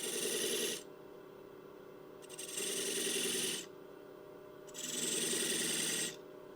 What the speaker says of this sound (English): I'm just going to come in straight in and make a couple of V grooves